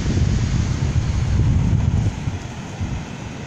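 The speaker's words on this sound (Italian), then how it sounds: "Arrivano le onde" Sea waves wash in under strong wind on a snow-covered coast at Civitanova, a broad continuous roar with gusty rumble, loud and close, no talk heard.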